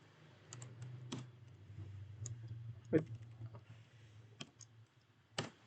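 Someone types a database command on a computer keyboard, giving sparse, quiet key clicks and a couple of louder taps over a low steady hum, with no talking.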